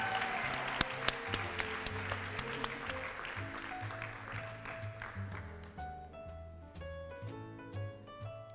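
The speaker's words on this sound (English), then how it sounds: "One more round of applause for them." Applause from an audience at a Super Scholars student recognition event rises briefly and then gives way to music, which carries on alone after the clapping fades.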